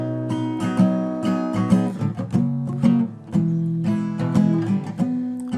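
Guitar playing the intro of a song, a clear close strummed and picked chord sequence with a repeating pattern, loud and alone without any voice.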